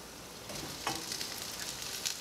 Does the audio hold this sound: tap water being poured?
no